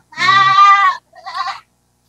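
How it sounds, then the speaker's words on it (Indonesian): An Etawah goat bleats twice, close by, at an aviary: a long, loud wavering call followed after a short pause by a shorter one. "Ini teman-teman ada kambingnya juga. Kambing etawa."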